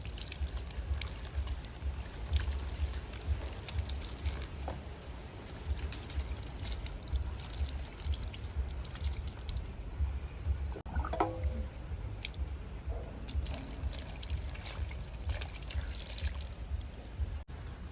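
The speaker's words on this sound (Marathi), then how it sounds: "आपण आता दुधी भोपळे स्वच्छ धुवून घेणार आहे" Bottle gourds (lauki) being washed under running water in a kitchen, a steady low rush of flowing water with faint splashes and light knocks, continuous and fairly quiet, no talking.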